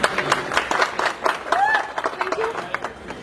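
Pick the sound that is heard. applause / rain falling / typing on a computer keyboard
applause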